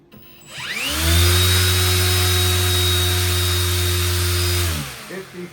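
An RC brushless motor spins an 11.5-inch 4-blade folding propeller, spooling up to a loud, steady whine with a strong hum, holding for several seconds, then winding down.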